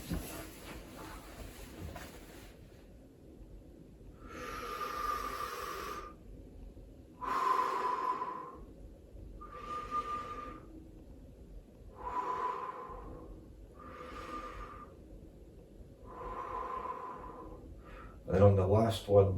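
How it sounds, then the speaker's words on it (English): Deep, forceful breaths in a Wim Hof breathing exercise, about seven loud rhythmic inhale-exhale cycles spaced a few seconds apart, close up and clearly audible, ending with a short louder burst. "I'll just do a couple of breaths."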